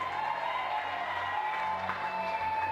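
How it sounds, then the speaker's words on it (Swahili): A church congregation claps and ululates for Jesus in steady, dense applause that holds evenly throughout, a crowd sound filling the room at moderate loudness. "Patia Yesu makofi na vigelegele."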